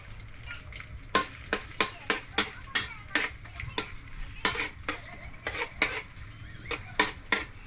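Food dry-roasting in a pan while being stirred, with repeated sharp scraping and clattering strokes in an uneven rhythm over a low steady hiss, close by and fairly loud, with no talking.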